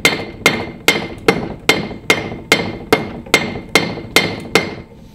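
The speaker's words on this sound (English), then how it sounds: "lay this head on the anvil and start just kind of tapping that head with the hammer" A hammer taps metal on an anvil in a steady series of about twelve ringing strikes, close and loud, evenly spaced with no talking.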